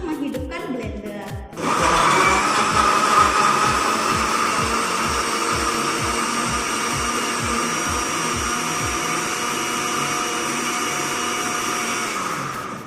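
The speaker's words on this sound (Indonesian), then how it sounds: "tombol sesuai dengan kecepatan untuk menghidupkan blender" An electric kitchen blender switches on after a moment of quiet and runs at a steady, loud whine, its motor drone holding constant with no speech over it.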